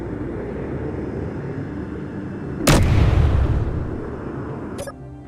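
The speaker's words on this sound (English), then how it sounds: "I can fire big rounds" Heavy cannon rounds fired from a mech arm in the game Space Engineers: one loud, booming shot with a long rumbling decay over a steady engine drone, then a brief sharp crack near the end.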